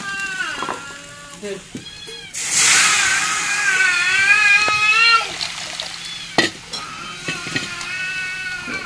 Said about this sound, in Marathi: गरम गरम कढईतच पात टाकून घेतली आत्याने